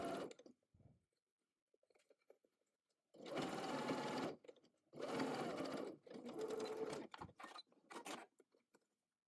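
A sewing machine stitches across the fold of an apron pocket near the ruffle. Its whirring comes close and clear in three main bursts with short quiet pauses, and a few brief stops and starts follow.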